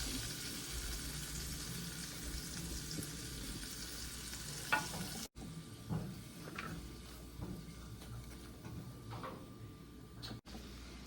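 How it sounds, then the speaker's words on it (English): Green peppers sizzling in a pan of oil with a little butter, a steady hiss of frying throughout with occasional clicks and scrapes of stirring, fairly quiet and with no talking. "now I'm gonna add in my green peppers."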